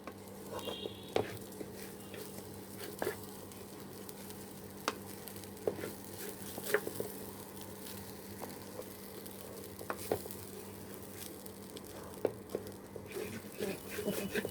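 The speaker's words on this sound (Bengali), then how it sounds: "এখন আমরা ভেজে নেব চালটা।" Broken rice (khud) frying in a pan with a soft, steady sizzle, broken by scattered scrapes and clicks from stirring, heard up close and fairly quiet throughout.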